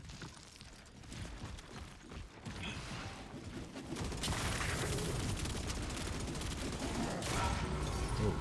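Gunfire and grenade blasts in a Gears of War E-Day multiplayer match, a dense, continuous rattle of shots that swells louder partway through and stays heavy to the end, with no talk over it.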